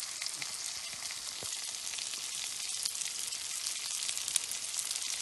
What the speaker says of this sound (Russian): Жареная с лучком, с колбаской.